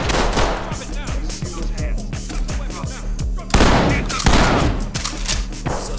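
Rapid gunfire in the tactical shooter Ready or Not, with loud repeated shots in quick bursts and a couple of heavier blasts over a low game rumble. Muffled voices sit faintly underneath.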